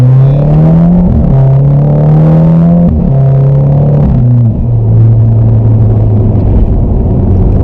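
A loud Skoda engine and exhaust revving hard, repeated rising pulls that break off and climb again, deep raspy rumble close up, then settling into a steady roar with no voices.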